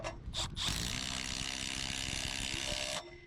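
A cordless drill drives a fastener on a fibre optic drop install, a loud close whir that starts with a couple of short bursts, then runs steadily for about two and a half seconds and cuts off.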